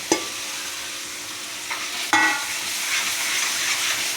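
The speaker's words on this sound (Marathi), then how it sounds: "हे पण आपण तेल सुटीपर्यंत परतून घ्यायचं आहे।" Spice paste with Kashmiri chili powder and salt fries in oil with a steady, close sizzle, broken by a sharp stirring clatter at the start and another louder scrape midway.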